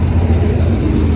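A GM Vortec 7.4L 454 V8 idles rough and runs rich, missing on at least one cylinder, with a loud, close, low rumble and an uneven pulsing beat over a short stretch.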